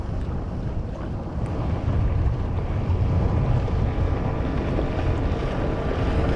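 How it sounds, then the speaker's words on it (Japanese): Strong wind buffets the microphone beside the Old Edogawa river, a loud, steady rumbling roar that swells slightly and never lets up, with no voices. "風が強いですね。"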